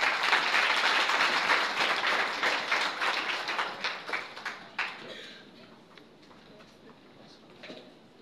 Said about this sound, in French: Encore un autre honneur d'applaudissements pour l'ambassadeur.